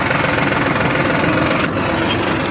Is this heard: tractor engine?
yes